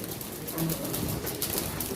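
Soft, low cooing from pigeons at a pigeon auction, a few faint murmuring calls against a hissy background.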